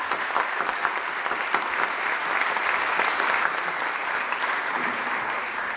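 Audience applause at a picture book launch in Veles, a dense, steady clapping from a large crowd, close and sustained throughout.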